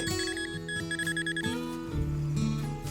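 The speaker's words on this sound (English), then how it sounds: "we got a pretty clear high tone, and it sounds coin-like" A metal detector gives a clear, high electronic tone over a buried 1952 coin in a farmhouse lawn, warbling and shifting pitch in a few pulses, close and loud, with no talking.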